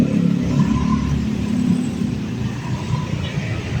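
Steady road traffic outside a central hospital, cars rumbling past continuously at moderate distance with a low engine drone and no talk over it.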